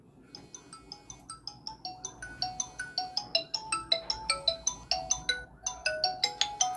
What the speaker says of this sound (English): I am calling the number.